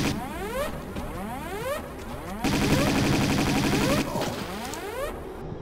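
Rapid game Uzi submachine gun fire from Tomb Raider 2, a dense rattling stream of shots with sweeping ricochet-like tones, loud and continuous, swelling louder midway.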